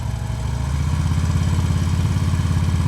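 A motorcycle engine idles and chugs steadily at low revs in a regular pulsing rhythm, close and loud, during slow-speed riding practice in North Carolina.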